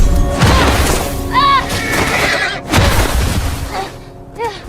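Horse Callus in The Last of Us video game whinnying shrilly twice amid heavy thuds and crashes as bandits attack it, with a raised voice partly over the clamor.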